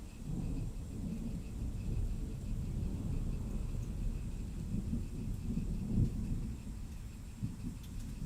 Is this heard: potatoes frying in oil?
no